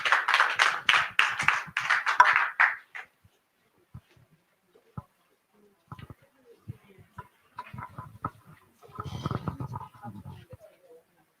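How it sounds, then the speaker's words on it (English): A short burst of audience applause at an Afrobeat-themed art event, a few seconds of clapping that quickly dies away, followed by scattered quiet taps and faint murmuring in a near-silent room. "Please give them a round of applause again."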